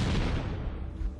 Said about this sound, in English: Nice grenade.